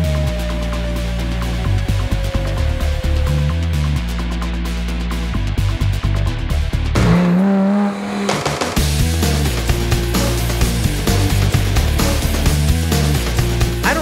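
A Lamborghini sports car engine drones and revs continuously up close, with a brief surge and shift partway through before the engine keeps running loud.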